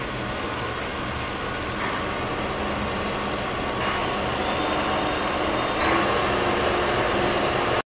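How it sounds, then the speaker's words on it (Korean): An Ecovacs T10 Turbo robot vacuum cleaner runs with a steady, even whirring hum, moderately loud and close, continuous without talk until it cuts off at the end. "본체 자체의 소음은 60에서 75dB 정도로 대부분의 로봇 청소기와 비슷한 수준인데"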